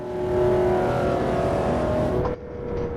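McLaren F1 car engine driven at speed on the Nordschleife in Automobilista 2, a loud, steady, close-up droning roar with a pitch shift and sudden drop near the end as the revs change.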